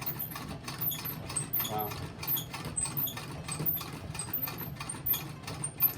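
Antique Singer Model 27 treadle sewing machine stitching by foot power, a steady mechanical chatter of needle strokes running throughout with light ticking, while a person speaks briefly.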